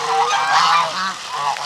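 Geese honk beside a pond, several loud nasal calls close by, repeating in quick uneven bursts with no talking.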